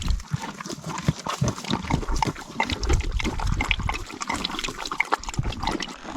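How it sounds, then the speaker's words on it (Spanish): Horses drinking from a water trough outdoors on a horseback trip through Spain, with wet slurping and gulping, small splashes and snorts close by, continuous and fairly loud for several seconds. "Aquí hay un abrevadero, a ver si quieren beber."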